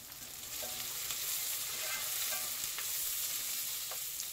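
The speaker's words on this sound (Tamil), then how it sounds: "இப்போ பார்த்தீங்கன்னா வெங்காயம் நல்லா வதங்கிருச்சு." Chopped onions fry with a steady sizzle in a pan for a Tamil-style mushroom biryani, with light scraping stirs now and then, close and continuous, and no talking.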